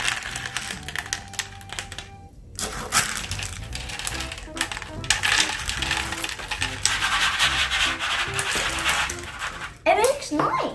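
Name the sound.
homemade tambourine being shaken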